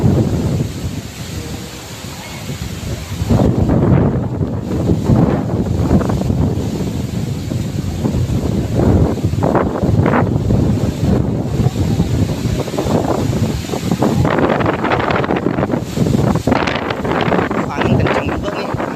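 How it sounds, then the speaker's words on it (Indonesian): Strong wind roars and buffets the microphone continuously during a flood, with rushing water and gusty bursts underneath. "Angin kencang juga nih, anginnya kencang banget."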